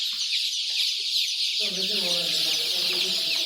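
Rhode Island Red and Australorp chicks in a hatchery brooder, a dense continuous chorus of high-pitched cheeping up close, joined by lower clucking in the second half.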